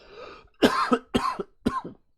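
Three harsh coughs in quick succession after a brief breathy sound, close and fairly loud.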